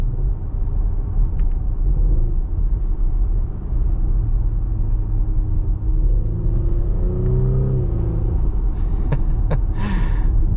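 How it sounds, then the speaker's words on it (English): A 2023 Audi SQ5 with a V6 engine and eight-speed automatic, heard from inside while driving: steady engine and road rumble with a rising rev and shift, then crackling exhaust burbles toward the end. "The exhaust is giving us nice little burbles on downshifts and upshifts."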